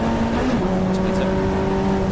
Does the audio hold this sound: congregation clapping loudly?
no